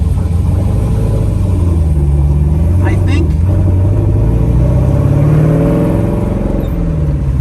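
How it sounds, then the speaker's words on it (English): A Perana Zagato Z-One's engine rumbles at a low, steady idle with exhaust burble and a brief rise in revs, close and loud beneath someone talking. "The exhaust sounds good."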